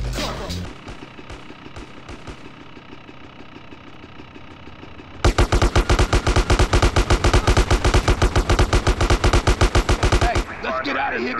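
Sustained gunfire cracks during a train chase in GTA San Andreas. A rapid, loud machine-gun burst runs for about five seconds over the rumble of a running engine, with quieter shots before it.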